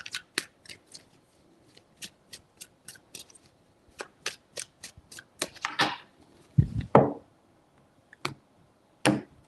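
Tarot cards being shuffled three times, a run of short crisp riffling clicks with a few denser shuffling bursts, close and fairly quiet, no talking.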